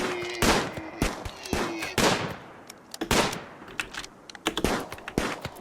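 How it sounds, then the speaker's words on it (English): Pistol shots from RimWorld gameplay while hunting a buck, a series of sharp, loud reports at irregular intervals, some in quick pairs, with brief quieter gaps between. "You're now hunting a buck with a pistol."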